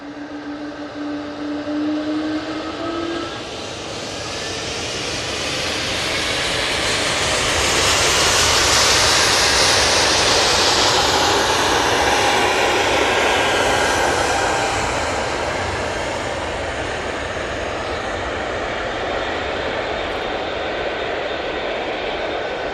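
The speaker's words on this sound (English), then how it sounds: "Air France A380 going back to Paris Charles de Gaulle after night stopping" Air France Airbus A380 departing Manchester Airport for Paris Charles de Gaulle, a long, powerful engine roar that builds to a loud peak midway and then slowly recedes, with a brief whine at the start.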